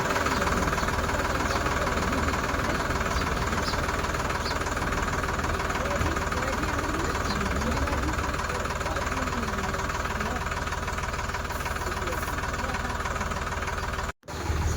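A new tractor's engine idles steadily with a low, knocking rumble throughout, running continuously and nearby before cutting out briefly near the end.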